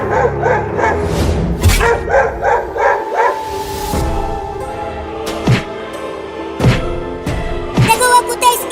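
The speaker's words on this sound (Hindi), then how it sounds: "वो कुत्ते उस लकड़ी के घर के सामने भौंक रहे हैं।" Dogs bark repeatedly in sharp bursts in front of a wooden house over a busy, music-like background, with yips scattered throughout.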